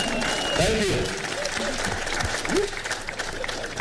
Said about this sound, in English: A round of applause for His Excellency, please